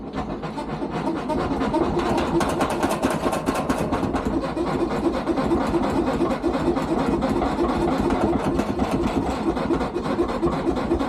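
A honey extractor spinning its first few frames, still light and shaking, gives a steady mechanical whir and rattle with a rapid regular beat, loud and close and continuing unbroken with no voices.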